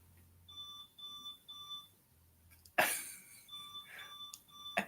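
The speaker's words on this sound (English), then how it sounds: "I think that's my son's alarm going off." An alarm clock beeping in another room of a house, faint and distant: repeated triple beeps in a steady rhythm, broken by a louder thump or rustle nearby.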